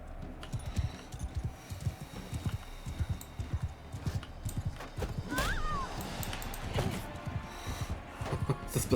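Rapid clip-clop of galloping horse hooves with a brief whinny midway, set in busy battlefield ambience from Mount & Blade II: Bannerlord.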